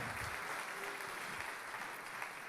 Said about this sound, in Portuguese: Mais uma vez, vamos aplaudir ao Senhor.